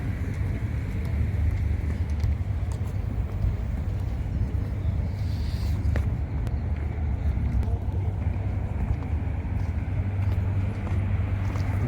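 Night street ambience in Dubai with steady, close traffic noise as cars pass along a road, a constant low rumble running throughout with faint occasional brighter swishes.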